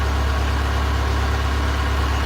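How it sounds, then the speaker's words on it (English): Outdoors in Alaska, a heater exhaust runs with a steady, loud, low rumbling drone that holds even and unbroken throughout. "the heater exhaust."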